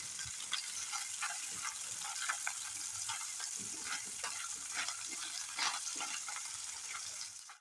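Small tangra fish sizzling in oil over high heat, a continuous close crackling hiss with scattered pops, fairly even in loudness and free of speech.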